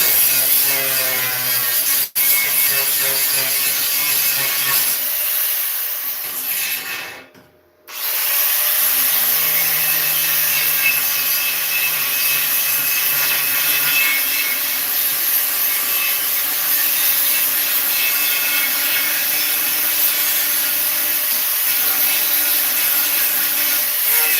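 A grinder works metal on a gate, a loud, continuous, harsh whine that runs almost unbroken for over twenty seconds, dropping off briefly about a third of the way in before starting up again, with no talking.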